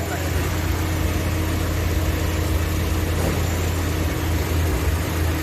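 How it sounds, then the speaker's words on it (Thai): A loud, rough car engine that is hard to start idles steadily with a low rumble throughout, close by, with no change in pace. "สตาร์ทติดยากแล้วเครื่องมันดังเพิ่งจะเปลี่ยนมาใหม่"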